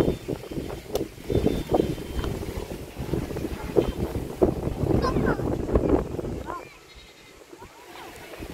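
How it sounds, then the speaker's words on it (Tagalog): Strong wind buffets the microphone in heavy, uneven gusts, with people speaking over it before it eases near the end. "Lakas ng hangin, sa lakas ng hangin,"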